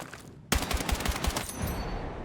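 Rapid automatic fire from the M433 assault rifle in Battlefield 6, a dense, loud burst of closely spaced shots at about 830 rounds per minute that starts abruptly after a brief lull and continues steadily.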